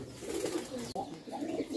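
A large Kala Huma pigeon coos softly and nearby in a pair's enclosure, giving low repeated murmuring coos with a brief break in the middle.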